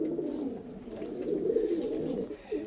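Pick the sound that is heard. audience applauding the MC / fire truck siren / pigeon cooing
pigeon cooing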